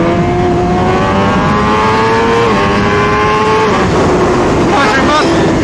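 Two Suzuki GSX-R 1000 motorcycles, one a 1000R, accelerate hard in a street race, engines winding up through rising pitch sweeps with gear changes, loud and sustained over constant wind noise.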